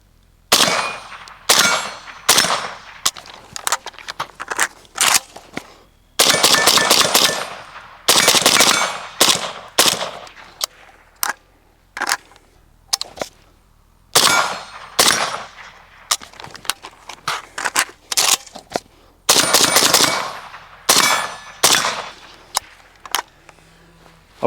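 Rapid bursts of AK rifle gunfire fitted with an Ultimak railed gas tube, loud and close, strings of quick shots separated by short pauses as roughly 100 rounds are fired with no talking.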